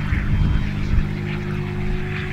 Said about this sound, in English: So they've got a really nice sounding plane.